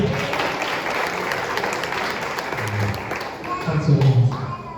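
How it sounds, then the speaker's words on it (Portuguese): Congregation at a Pentecostal deliverance service applauding to welcome the pastor, a steady dense wash of clapping with voices and low tones mixed in throughout. "Receba o pastor com as palmas de vitória"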